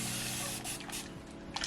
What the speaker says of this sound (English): So I'm gonna spray it just a little bit